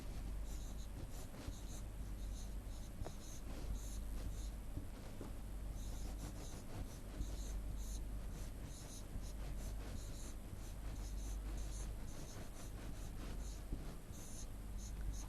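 A pen scratches out numbers in short, steady strokes during a Class 4 maths lesson on addition, a continuous close scratching against a steady background hiss.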